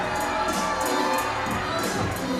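Dense wrestling arena crowd cheering and roaring at an independent show, with children shouting among the noise, a constant loud wash of voices with no break.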